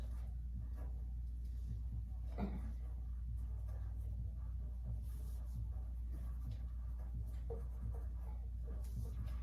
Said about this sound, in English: So I'll give you guys a minute to write that down, and then just tell me when you're finished.